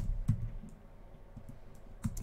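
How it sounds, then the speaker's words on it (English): Typing on a computer keyboard, a few soft scattered key clicks heard close in a quiet room. "As you see, I'm typing print"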